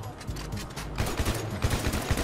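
Rapid bursts of gunfire in the GTA 5 video game, fired while shooting out building windows, crackling in quick repeated volleys throughout at moderate level.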